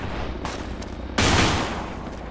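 A burst of gunfire from a gun believed to be unloaded, fired outdoors in a Jamaican jungle: a sharp, loud broadband crack with a lingering rumbling tail, standing out against steady outdoor background noise.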